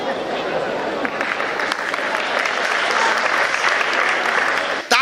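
Loud, dense applause fills the hall from a large audience at a Hindi comedy poetry show (hasya kavi sammelan), sustained throughout and cutting off sharply near the end.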